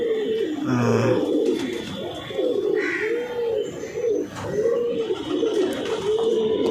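A pair of Andra Fulsira fancy pigeons kept at a home coo repeatedly nearby, a rolling rhythmic series of soft calls continuing throughout with no talk.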